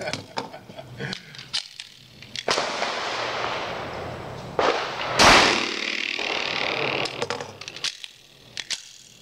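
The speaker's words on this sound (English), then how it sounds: "just got through shooting the Sig Sauer P320 with the TXG Grip, utilizing the Romeo Pro 1 sight" A Sig Sauer P320 pistol with a TXG grip and Romeo Pro 1 red dot sight fires a few sharp shots spread across the span, with one especially loud crack near the middle amid scattered clicks and rustling.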